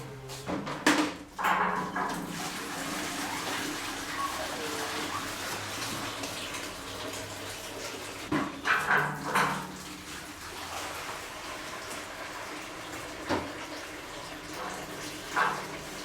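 Water pours steadily onto the mash during a home beer brew, a continuous splashing rush with a few brief knocks and clatters near the start and again partway through.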